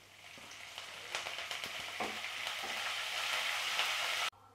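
Tempering seeds and curry leaves fry in hot oil for a stuffed bitter gourd dish, giving a continuous close sizzle with scattered sharp pops that swells slightly before cutting off abruptly near the end.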